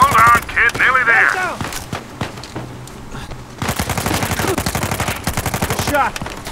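Gunfire in the Uncharted 4 video game rattles in rapid bursts of sharp shots, with a brief pause before a dense volley, alongside in-game music and sound effects.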